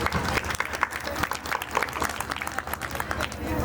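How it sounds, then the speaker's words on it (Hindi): A crowd gathered for a school program claps steadily, a dense patter of many hands at moderate volume, with some voices mixed in underneath. "ज़ोरदार तालियां आप सबके लिए जो आज आप आए"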